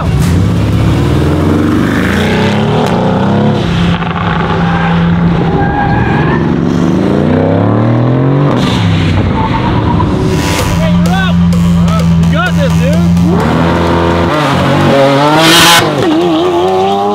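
Lamborghini Huracan race car accelerating hard through repeated gear shifts, loud rising and falling engine pitch with brief tire squeal, voices talking over it at times.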